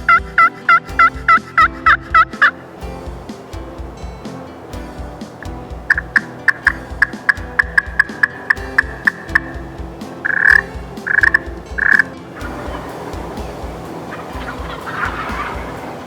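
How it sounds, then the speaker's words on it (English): Wild turkeys gobble repeatedly on public land in Muskegon County, Michigan, with loud, close, rattling bursts in quick succession. Sharp yelping calls come in between the gobbles, and a quieter stretch follows at the end. "moments later these turkeys were sounding off,"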